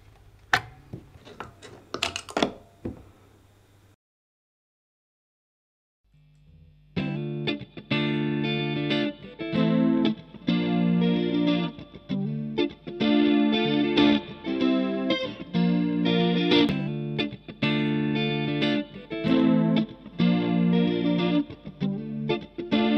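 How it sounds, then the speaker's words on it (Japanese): A looped electric guitar phrase plays through a BOSS CE-1 Chorus Ensemble pedal, loud, rhythmic and shimmering with warbling chorus, after a short muted strum and a couple seconds of silence. "このループペダルに僕が弾いたギターのフレーズを録音して、それを再生しながらノブを回していきたいと思います。"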